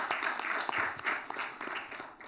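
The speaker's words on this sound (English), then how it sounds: "Let's give him a round of applause as well." An audience at a conference on African financial reform applauds a finance minister, a short burst of steady clapping from a room full of people.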